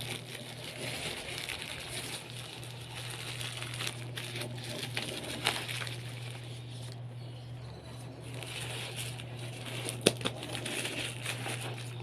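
Plastic wrapping crinkles and rustles continuously up close, with scattered sharper crackles over a steady low hum and no talking.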